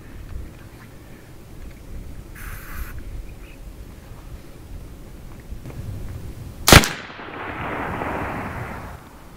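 A single sharp, loud crack from a BIN TAC S45 semi-automatic air rifle charged to 4,000 PSI, fired once and trailing off in a short decay over a quiet outdoor background.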